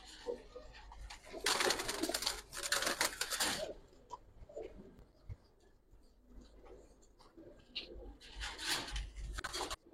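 Giribaz pigeons coo in a small loft of paired birds, with soft low calls and bursts of wing flapping or rustling at the start and near the end, fairly close and with no talking.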